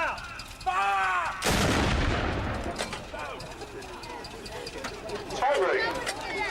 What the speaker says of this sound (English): leave your mouth open slightly to allow the blast to dissipate, otherwise apparently it can pop your eardrums